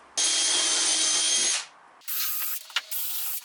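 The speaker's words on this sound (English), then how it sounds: "Let's drill some pilot holes ready to put some screws through into the upstands." A power drill bores pilot holes into wooden shelf upstands, a long steady high whine for over a second, then after a short pause two more bursts of drilling with a brief clunk between them, close and loud.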